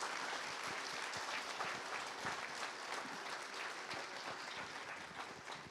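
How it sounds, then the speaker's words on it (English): An audience at a school spring concert applauds steadily for several seconds, with dense, continuous clapping that fades slightly toward the end. "let's give these 4 staff members a round of applause as well"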